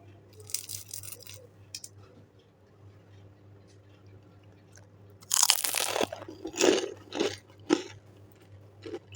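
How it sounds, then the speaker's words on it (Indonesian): Crisp crunching as a homemade chocolate-filled wafer roll in the style of Astor is bitten and chewed close up, several sharp crunchy bites after a quiet stretch with faint background hum. "Dengar juga ya, kalau ini tuh renyah banget, kriuk, bahkan sampai dalam-dalam juga dia tetap kriuk."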